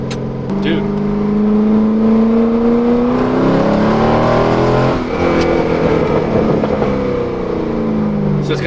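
A C6 Corvette with an LS V8 and aftermarket exhaust revs up, its note climbing and falling in two rising pulls, loud and close, while people talk over it.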